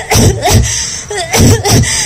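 An 88-year-old man on a stage drama gives deep, raspy coughing in a series of about five harsh bursts, close and loud, with short pauses between fits.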